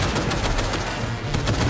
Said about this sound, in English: I'm shooting the railing.